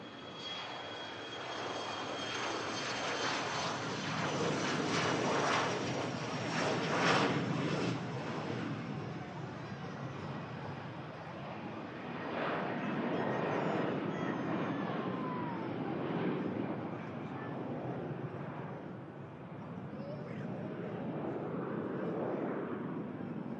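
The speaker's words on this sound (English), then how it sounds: "CRJ climbs out." A CRJ regional jet climbs out after takeoff at Manchester Airport, its engine roar broad and sustained and steady in loudness, with no talk over it.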